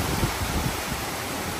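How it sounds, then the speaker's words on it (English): Strong winds from Hurricane Milton lash Florida outdoors, a rushing roar with gusts buffeting the microphone and trees, loud and continuous with no speech. "I don't know if you guys can hear how windy it really is, but yeah, it's pretty bad"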